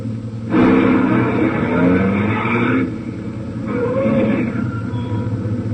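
A truck engine in a 1950 radio crime drama sound effect rumbles loudly as it drives up, eases off, then idles on with a steady low throb, with no voices over it.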